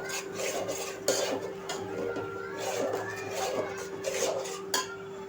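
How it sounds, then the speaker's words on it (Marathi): A spoon scrapes and stirs a ground masala paste frying in oil in a metal pan for prawn curry, with soft repeated scraping and occasional clinks at low volume. "आता हे वाटण जे आहे हे आपल्याला तेल सुटेपर्यंत परतायचं आहे."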